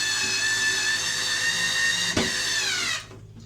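A small cordless drill spins steadily at high speed, driving a 1 5/8 inch exterior screw into a piece of scrap wood. A brief thunk comes near the end, then the motor winds down and stops.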